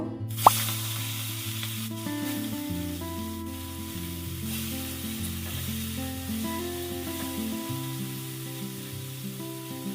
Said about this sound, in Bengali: তেলটা গরম হয়ে গিয়েছে, এবার আমি চিংড়ি মাছগুলোকে ভেজে নেব।